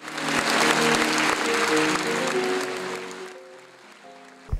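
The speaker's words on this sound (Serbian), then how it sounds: "O reakciji pirotske publike govori aplauz koji su dobili glumci." A theatre audience in Pirot applauds the actors after a performance of the play Frenki i Džoni, a full, dense burst of clapping that fades over a few seconds while voices speak over it.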